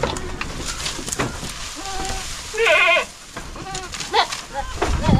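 Goats bleat several times while feeding on dry leaves spread on the ground, one call loud and close, with rustling and chewing-like noise around them and some faint voices.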